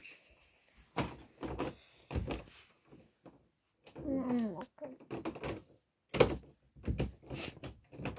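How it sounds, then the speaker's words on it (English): A series of door thunks, clicks and short scrapes sounds close by, separated by gaps, with a creaky sliding movement in the middle and a sharp knock near the end. "Doors open again."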